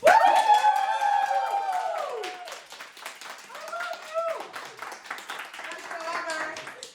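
A live crowd claps through a continuous, moderately loud patter at a grilled cheese cooking competition final, with voices cheering and talking over the applause.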